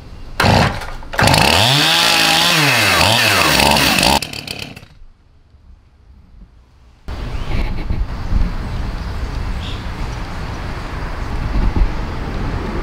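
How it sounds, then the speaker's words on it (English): A Stihl chainsaw engine catches and roars loudly, revving up and down, cuts out briefly, then settles into a steady running drone. "so that's how you start up your Stihl chainsaw"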